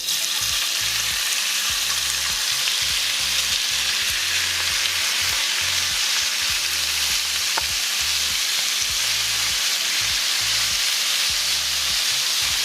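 Beef sizzles hard in hot lard for a poblano stew, a loud, constant close-up frying hiss with a low pulsing rumble underneath and no voices.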